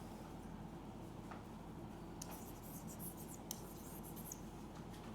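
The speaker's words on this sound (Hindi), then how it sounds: "देखो लिखते हैं" Pen writing by hand on paper during a Class 12 accounting lesson, a low steady scratching with faint taps, quiet and continuous under a background hum, no talking.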